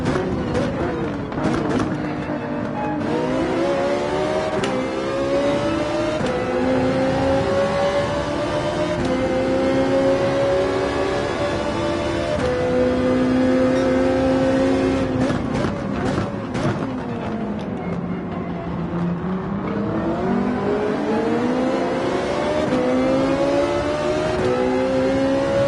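Ferrari 458 in a Gran Turismo 7 race at Sardegna, its engine note rising and falling steadily through gear changes for the whole stretch, loud and continuous, with other racing cars close around it.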